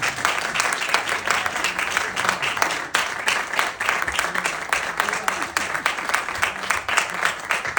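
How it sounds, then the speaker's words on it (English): Audience at a Grammy Hall of Fame program presentation in Los Angeles breaks into sustained, dense applause, steady and loud throughout with a few voices mixed into the clapping. "Another round of applause for Raymond."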